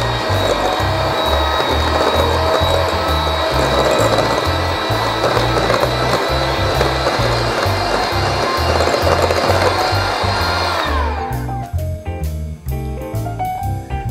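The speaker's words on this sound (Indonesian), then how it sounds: "Aduk selama 3 menit hingga mengembang dan rata." An electric hand mixer beats margarine and granulated sugar into a fluffy batter for a pandan coconut cake, a loud steady motor whine with rhythmic pulsing that runs for about ten seconds, then stops and leaves clattering kitchen sounds.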